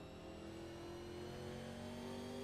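Onboard race car engine in the 1987 Living Legends series at Richmond, a sim racing game, held at a steady high drone with gently rising pitch as the driver feeds the throttle cautiously; loud and continuous, no talk.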